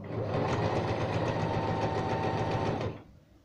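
A Toyota sewing machine stitching 4 mm stitches through denim jeans hums in a fast, steady mechanical rattle for about three seconds, close and loud, then stops abruptly.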